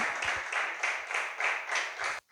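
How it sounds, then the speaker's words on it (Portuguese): Rhythmic group clapping in bursts during a church service, many hands together at a steady beat, loud and roomy, ending with a brief pause. "Aplauda o Senhor, aleluia."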